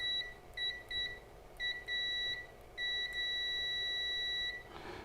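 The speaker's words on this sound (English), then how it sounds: "let's try continuity like this, and let's see if it is fast enough to beep" A Zoyi ZT702S multimeter emits its high, thin continuity-test tone in quick start-stop chirps that settle into one sustained beep, clear and close in a quiet room.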